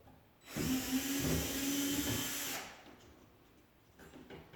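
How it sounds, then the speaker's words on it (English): A power drill removing screws whirs steadily for about two seconds, loud and close, then cuts off, leaving quiet room noise. "I'm just going to take my drill and my putty knife and take these screws out"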